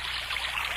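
Water trickles and gurgles steadily as it leaks through a hole into a boat, a brief, soft, continuous flowing sound with no voices.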